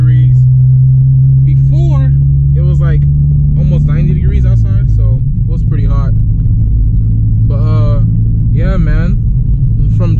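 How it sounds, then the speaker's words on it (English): A 9th-generation Honda Civic Si being driven on the street gives a steady low engine drone that runs throughout, while a voice talks over it for most of the stretch. "just driving the car now."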